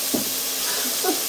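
Dibbelabbes, a Hunsrück potato dish, fries in fat in a pot with a steady close hiss and sizzle, while a voice murmurs briefly twice beneath it.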